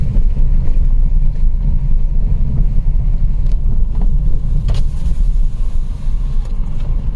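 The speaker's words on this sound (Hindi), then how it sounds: "एक और बाइक भी आ रही है" A motorbike on a forest road at night gives a steady, loud, close engine rumble with a low droning tone that holds throughout, and no voices are heard.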